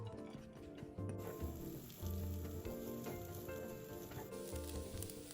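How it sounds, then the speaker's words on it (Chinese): Minced dried shrimp sizzle steadily in a tablespoon of fried scallion oil in a wok, a dense, continuous crackle close up, with occasional stirring scrapes and no talk. "倒入1大匙炸葱油，再将备好的虾米末倒入爆香"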